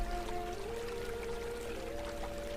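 River water flows continuously in a soft, steady wash, with a gentle pouring quality and no voices.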